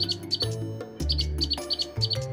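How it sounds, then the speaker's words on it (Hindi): Birds singing in a palace garden, with repeated bright chirps and tweets over a layered musical background, several calls close together in a lively rhythm. "बस सभी पक्षी गाना गाना शुरू करते हैं"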